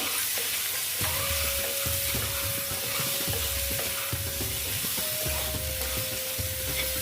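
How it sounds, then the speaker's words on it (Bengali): Halved boiled eggs fry in oil in a pan for an Afghani egg curry, making a steady sizzle under regular low thumps and scrapes from a spatula moving them, close and with no one speaking. "ডিমটা লাল লাল করে ভেজে নেব"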